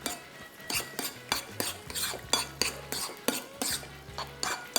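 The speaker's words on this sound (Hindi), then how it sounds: "ये मेयोनीज़ हमने कल बनाया था, इसको सिंपली मिक्स करना है बस।" A spoon stirs mayonnaise and garlic dipping sauce in a bowl, with a steady rhythm of close clinks and scrapes against the bowl, repeating about twice a second over a low kitchen hum.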